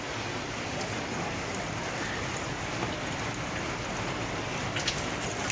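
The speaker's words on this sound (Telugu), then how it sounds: "వర్షం అయితే అలా పడుతుంది" Steady rain falls in a constant, even hiss of drops on surfaces, with no breaks or voices.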